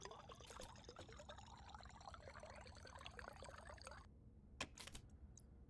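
Water pouring into a container in the game Stationeers, a steady liquid trickle for about four seconds that then stops, followed by a couple of brief clicks.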